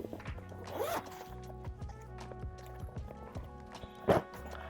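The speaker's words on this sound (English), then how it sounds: "there is a zipper on the bottom of the bag" A backpack's bottom zipper being pulled open, close and quiet, with a few short rasping zip strokes and soft handling knocks of the bag around them.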